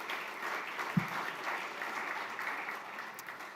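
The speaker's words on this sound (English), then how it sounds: "give another round of applause to Sarah and her whole team." A crowd claps steadily and evenly throughout a short burst of applause for Sarah and her team at a golf classic summer party, with one louder thump near the start.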